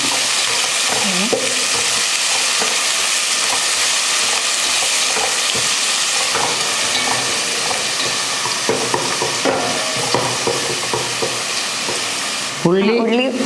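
Two finely chopped onions fry in a pan for an okra and egg dish, giving a loud, dense sizzle close up with spatula scrapes throughout and a sharp clatter near the end.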